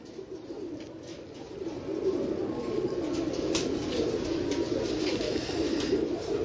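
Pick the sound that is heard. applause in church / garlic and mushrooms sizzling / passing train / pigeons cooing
pigeons cooing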